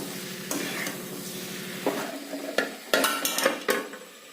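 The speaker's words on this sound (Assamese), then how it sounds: "এইখিনি আকৌ ভালকৈ ভাজি লওঁ।" Pigeon meat fries in a pan for a curry, a soft sizzle under repeated scraping and stirring strokes, with sharp clinks of a utensil against the pan growing busier toward the end.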